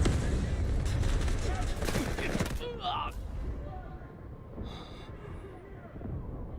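Dense rattling gunfire from the video game Wildgate or Delta Force crackles in rapid bursts for a few seconds, then drops away to quieter scattered shots and ambient game noise.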